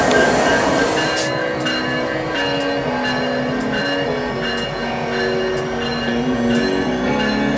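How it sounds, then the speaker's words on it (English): A train rolls past nearby with a loud continuous rumble, rhythmic wheel clicks over rail joints and shifting metallic squeals and tones, steady and close throughout. "let me get this shot of this train coming"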